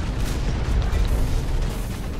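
A mech's missile ability firing in the PC shooter HawKen, a dense, loud, continuous roar of rumbling blasts with no break and no talking.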